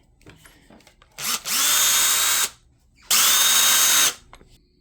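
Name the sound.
power drill drilling metal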